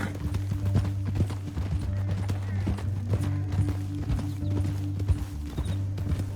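Horse hooves clip-clop at a steady trotting pace in the video game Red Dead Redemption 2, close and fairly loud, over a low droning background.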